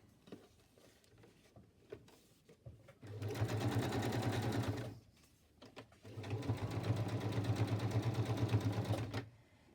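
Sewing machine stitching selvage onto a Christmas tag, heard in two close, steady bursts of rapid mechanical whirring separated by a brief pause, with quiet handling noises before and between.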